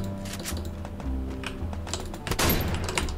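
Rapid gunfire in the Garena Free Fire video game, a dense volley of sharp shots that swells louder toward the end, heard alone without talk.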